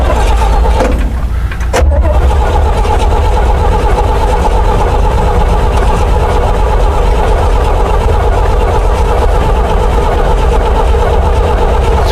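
A 1974 grain truck's old engine cranks over steadily and loudly up close, a continuous grinding drone after a brief sharp noise near the start.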